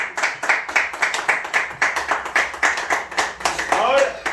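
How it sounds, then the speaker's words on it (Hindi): An audience claps together in a steady, rhythmic beat at a commemoration honoring Fatima Sheikh, close and loud, with a voice briefly heard near the end. "फातिमा शेख के लिए दिल खोल के ताली होनी चाहिए"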